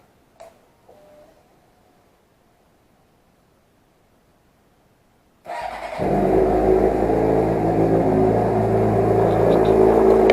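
A motorcycle being winterized with fogging oil fires up after a few seconds of quiet and small handling noises, then settles into a loud, steady idle close to the microphone.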